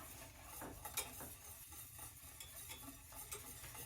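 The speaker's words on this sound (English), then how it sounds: "And then you mix the bananas," A spoon stirs bananas into cream of wheat in a pot. The stirring scrapes and clicks steadily over a bubbling, simmering background, close and fairly quiet, with no talking.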